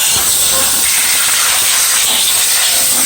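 Compressed air rushing from a valve left open gives a loud, continuous, close hiss that holds steady throughout with no pauses and no speech.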